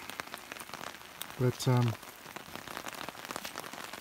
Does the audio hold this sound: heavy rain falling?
yes